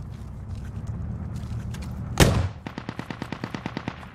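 A mortar round fires in the military shooter Squad during an offensive push, a single loud deep boom over steady background rumble, followed by a quick run of about ten sharp, evenly spaced mechanical clicks or distant shots.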